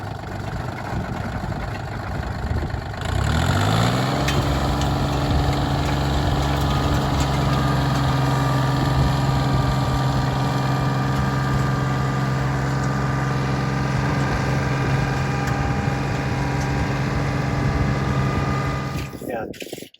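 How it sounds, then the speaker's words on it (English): A Rotadairon soil cultivator mounted on a tractor starts up and tills soil, its engine and rotor settling into a steady, loud drone that runs nearly the whole time before cutting off at the end. "you put it in the ground and you start tilling, and you go 20, 30, 40 feet"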